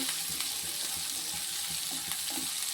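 Chopped onions and green chillies sauté in a pan for a ridge gourd and egg stir-fry, giving a steady close sizzle with soft stirring scrapes throughout and no talking.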